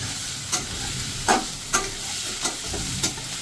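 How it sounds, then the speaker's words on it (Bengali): Chopped onions, three of them, sizzling in a pan for soya manchurian, with a steady frying hiss broken by five sharp scraping stirs spaced about half a second apart. "এবার পেঁয়াজটা একটু হালকা একটু ভাজা হোক"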